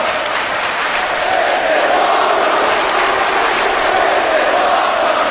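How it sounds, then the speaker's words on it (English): A loud live crowd at an indoor independent wrestling charity event roars and applauds in a dense, steady wall of cheering that swells slightly and holds throughout. "This crowd here at RTF is loving this."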